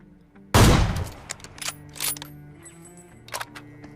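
In an online shooter game, a hacker sprays gunfire: one loud burst opens the clip, followed by several quicker, fainter shots scattered over the next few seconds.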